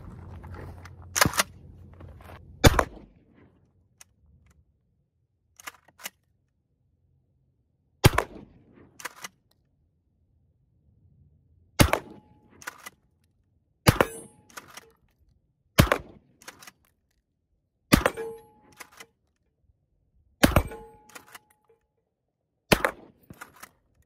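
Kel-Tec KSG 12 gauge bullpup shotgun firing mini shot shells outdoors: about a dozen sharp, loud shots at irregular intervals of one to three seconds, with racking clicks between some of them and quiet gaps in between.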